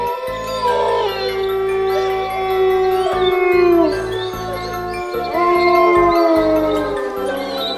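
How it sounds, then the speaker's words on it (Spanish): Several dogs howl together in long, wavering, overlapping cries, loud and close, sliding up and down in pitch over a low droning background. "Los perros que acompañaban a ese atajo de mulas cargadas de mercancía aullaban."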